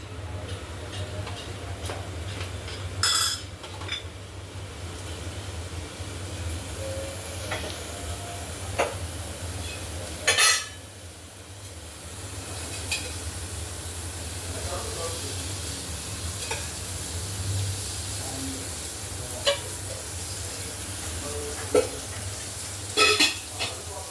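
Finely chopped onion and garlic sizzle in hot oil for a Marathi-style tempering, a steady low frying hiss with occasional stirring clinks and taps, close and fairly loud, no talking.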